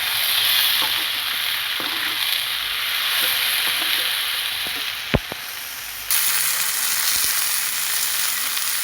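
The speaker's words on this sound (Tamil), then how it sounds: "தக்காளி சேர்த்து நல்லா வதக்கிட்டு" Tomatoes sauté in a pan with a broad, steady sizzle and hiss, marked by a few soft clicks and one sharp tap partway through, then the frying swells a little louder, with no talking.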